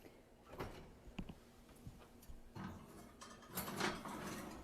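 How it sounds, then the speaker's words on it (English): A lemon meringue pie goes into a home kitchen oven, with scattered clunks and rattles of the oven door and rack, a few sharper knocks and a brief scrape near the end, moderately close with no talking. "I'm going to put it in the oven."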